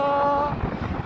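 Wind gusts outdoors at night in Pune, a steady broadband rush that swells and buffets close to the microphone for about a second, with no talking.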